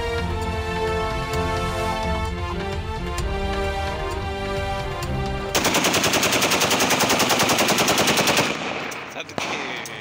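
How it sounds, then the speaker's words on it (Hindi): Aerial gunfire at a wedding celebration: music plays first, then a loud, rapid automatic burst of shots rattles on for about three seconds before fading out. "शादी की तकरीब में हवाई फायरिंग करने वाले तीन मुलजमान गिरफ्तार।"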